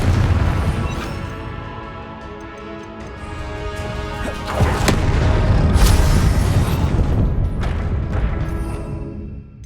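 Spell impacts and explosive crashes from the Confringo fire spell in Hogwarts Legacy, loud and layered over game music, with a strong burst near the middle and sustained rumbling blasts afterward.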